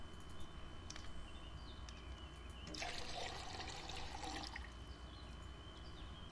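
A clay pottery jar is filled with water in the game Wurm Online, a brief gurgling pour swelling for about two seconds over steady background hiss, no speech.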